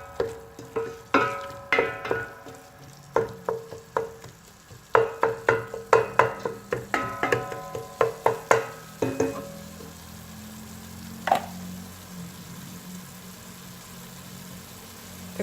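Coriander and garlic cook with tomatoes in a pan for vegetable arrowroot soup, with a run of rhythmic spoon clinks and scrapes against the pan, then fading to a low steady simmering hum.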